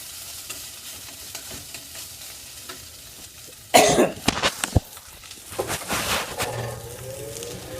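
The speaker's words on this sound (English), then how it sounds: "Now I'm going to cook these up a little bit, mix it up, let those sizzle a little bit." A sudden loud sizzle erupts as vegetables for chicken fajitas hit a hot pan, followed by clattering stirring and continued crackling frying.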